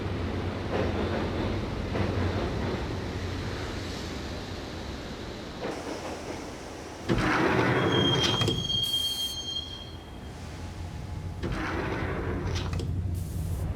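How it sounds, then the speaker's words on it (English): A video-game train in Max Payne rolls steadily along the rails, wheels rumbling with a sharp metallic squeal rising midway, then settling back into a continuous clatter. "the train doors had already shut behind me, and I was in for the ride"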